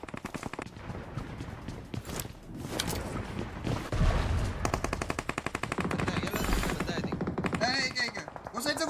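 Rapid bursts of automatic gunfire from a video game, with dense, loud shots repeating in quick volleys throughout while players talk excitedly over the action.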